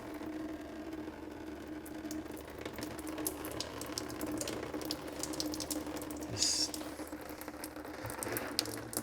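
Coolant trickling out of a 52-year-old car radiator drain, a steady faint splashing flow with light clinks and handling noises over a low background hum, no talk.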